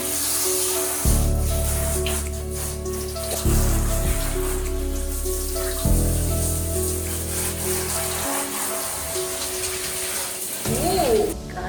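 Water sprays from a shower onto a husky dog in Mumbai, a soft continuous hiss running beneath loud tonal music.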